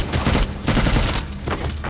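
Gunfire in an action film scene, dense rapid bursts of shots in quick succession, loud and close, with brief gaps between volleys and no speech.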